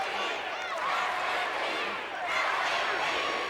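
Capacity crowd roaring inside a wrestling arena during a Buried Alive match between The Undertaker and Mankind, a loud, dense, steady wall of cheering that swells and dips slightly throughout.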